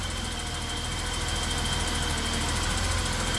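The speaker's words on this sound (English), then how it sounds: "I still got my hunting idle, especially when cold" A BMW E32 735iL engine idles with a hunting idle, a close, steady rumbling hum with a fine rapid pulsing throughout, no voices present.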